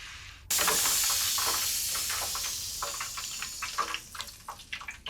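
Blanched chips drained from 140°C frying oil, a sudden loud hiss and sizzle that slowly fades into bursts of crackling and bubbling, close by, no talk.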